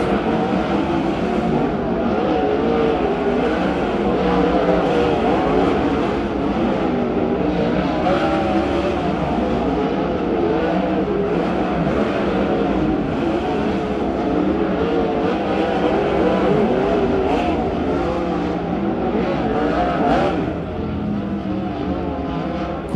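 A 410 sprint car running a hot lap on the Stockton dirt track, its engine roaring loud and steady for the whole stretch with a slight drop near the end, and no talk over it.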